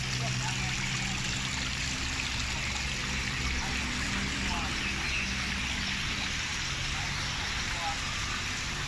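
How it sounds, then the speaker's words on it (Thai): Steady rushing water fills the scene, a constant close splashing flow of a small waterfall with no pauses. "น้ำตกเล็ก"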